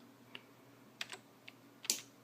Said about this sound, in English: you hear that tick. That's the sound of the valve opening.